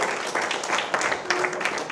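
An audience applauds guest speakers at a media election special event: a dense, continuous wash of clapping from many hands, fairly loud and even throughout.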